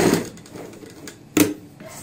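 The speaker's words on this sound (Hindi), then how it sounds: "अब हम ऊपर से यहाँ पे सिलाई लगाते हैं इस प्रकार से" A sewing machine stitches a box pleat palazzo pant in short, close bursts, a quick run at the start and another sharp burst near the end, with quiet gaps between.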